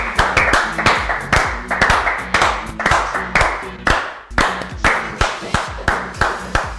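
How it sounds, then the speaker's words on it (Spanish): Audience applause greets a guest arriving on a Spanish-language show, a loud, steady burst of many hands clapping close by, with sharp individual claps standing out above background music. "Creo que recibamos con un fuerte aplauso y la música lo indica a Federico Lázaro."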